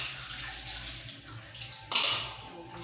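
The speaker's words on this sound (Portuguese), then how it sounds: "Aí eu só vou passar aqui de água por baixo." Running tap water rinses a pot lid at a kitchen sink, a steady close splashing stream that changes pitch and grows louder partway through as the lid moves under the flow.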